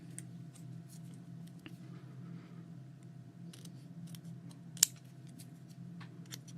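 Scissors trimming paper for a memory album, a few soft snips against a quiet room hum, with one sharper cut standing out partway through.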